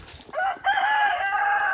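A rooster crows in a chicken coop run on a homestead, one close, loud cock-a-doodle-doo with a short break before the long drawn-out final note.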